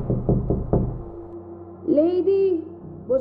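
Four firm knocks land on the front door of a house in quick succession, loud and close, followed by a pause, then a sustained tonal sound with no speech.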